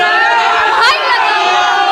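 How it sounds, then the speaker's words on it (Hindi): A dense crowd shouting Jai Shri Ram slogans, with massed voices forming a continuous loud roar and one brief swelling cry near the middle. "एक सोशल मीडिया पर वीडियो वायरल हुई जिसके अंदर जय श्री राम के नारे लगा रही थी भीड़"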